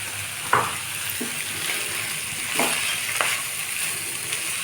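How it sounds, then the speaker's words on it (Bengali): Chopped cabbage stir-fries in a hot pan for chow mein, giving a steady soft sizzle broken by a few sharp scraping stirs of a spatula. "এখানে দিয়ে দিচ্ছি বাঁধাকপি কুচি"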